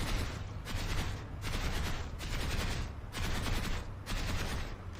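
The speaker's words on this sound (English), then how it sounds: "What you want to do is you can do burst fire." Loud burst-fire gunshots from a weapon in the video game Planetside 2 come in about five rapid bursts, separated by short gaps.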